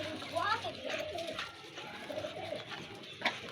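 Soft cooing from a nesting female pigeon with eggs close by, low throaty murmurs repeating irregularly over background noise, with a voice speaking Hindi at times.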